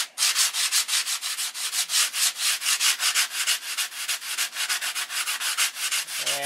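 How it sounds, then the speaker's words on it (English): Wood is hand sanded with 80 grit sticky-back sandpaper before a hinge install, quick rhythmic back-and-forth rasping strokes close up and steady throughout, with no voices. "I take some of the sticky back paper in hand. Remember, this is 80 grit."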